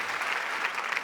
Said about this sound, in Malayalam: നിറഞ്ഞൊരു കൈയടി കൊടുത്തേ.